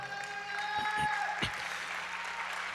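A church congregation applauds during a sermon, a steady, moderately faint wash of clapping with a few sharper claps standing out, while a sustained tone hums beneath.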